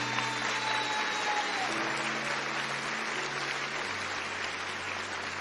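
Congregation at a Catholic sermon by Frei Gilson claps loudly and continuously, a broad sustained applause with soft held musical tones underneath.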